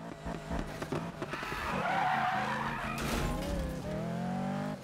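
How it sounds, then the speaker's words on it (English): A car in the Need For Speed racing game drifting, with tires squealing continuously over a loud, steady engine whine that shifts pitch as the slide goes on, close and with no talking. "Come on, drift. Drift for me."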